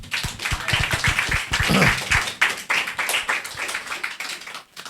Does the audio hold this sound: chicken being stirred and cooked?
no